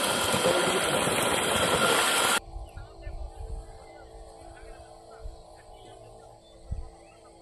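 An electric water pump motor runs with a loud, dense roar for about two seconds, then drops abruptly to a quieter low hum. Faint voices can be heard in the background.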